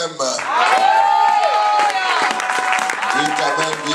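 A church congregation bursts into loud, sustained applause and cheering that fills the room. Voices ring out over the clapping for most of its length.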